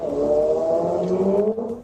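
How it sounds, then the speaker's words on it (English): A motorcycle passes by with a steady, loud engine drone that holds for over a second and a half, with a slight shift near the end as it fades. "That was a motorcycle, right? Sounds like a motorcycle."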